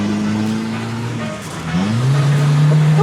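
A Citroën C15 fitted with a NOS kit revs hard, its engine note rising, dipping briefly and then climbing again into a loud, sustained drone, close by with no talk.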